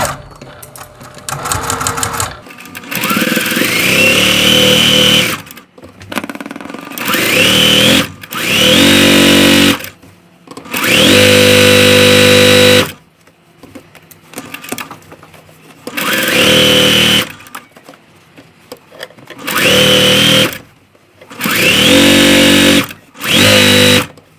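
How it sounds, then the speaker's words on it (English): A sewing machine stitches both sides of a quilt row in loud, buzzing bursts of a few seconds each. The bursts are separated by short pauses and quieter handling noises, and no one talks. "So I'm going to sew both sides and then take it over and press it"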